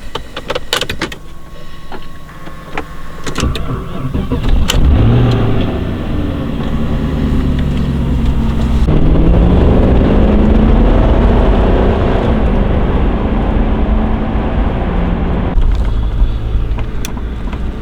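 Audi S6 driving along, a continuous engine and road rumble with low drone and shifting pitch, plus occasional rattles and clicks inside the car, loud and steady throughout.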